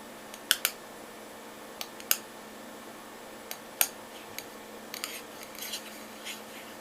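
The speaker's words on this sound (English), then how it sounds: "tap on the lid a little bit. It's got a nice light sound to it" Light, sparse taps on the lid of a handcarved wooden bowl, a dozen or so soft knocks at irregular intervals, close and quiet against a hushed background with no talking.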